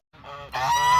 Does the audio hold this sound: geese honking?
yes